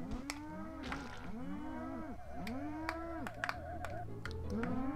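Cows in the South Park game on Nintendo 64 moo over and over in overlapping low bellows, mixed with sharp clicking hits, fairly faint overall.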